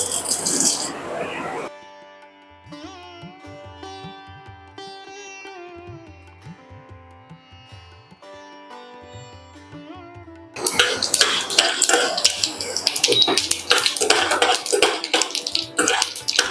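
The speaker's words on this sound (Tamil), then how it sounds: "கடுகு பொரியுது" Mustard seeds and urad dal splutter and crackle in hot groundnut oil while tempering for saamai upma, a dense hissing pop heard briefly at first, then loud and sustained after a stretch of soft background music.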